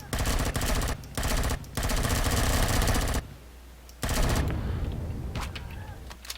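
Rapid automatic gunfire from attacking drones in Empyrion Galactic Survival, loud dense bursts broken by short gaps, then a pause and a further volley that tapers off with a few scattered shots.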